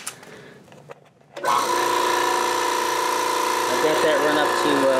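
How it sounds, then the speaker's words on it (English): A garage air compressor starts up abruptly after a quiet moment and then runs at a steady, loud, continuous drone with a constant hum, used to feed a model steam engine. "Now I'm running off the compressor."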